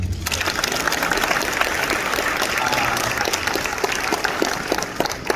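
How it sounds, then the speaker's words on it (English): A crowd at a comedy and mentalism show bursts into steady, sustained applause, many hands clapping together at close range for several seconds. "We can clap for that."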